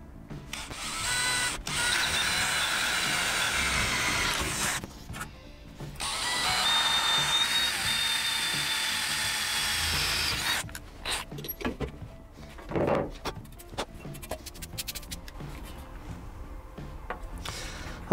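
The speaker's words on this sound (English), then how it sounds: "then we just get the drill holes drilled out for the backing plate" A power drill bores holes for a number plate backing plate on a Rover P6, two loud sustained whining bursts followed by shorter stop-start drill pulses and clicks, close by.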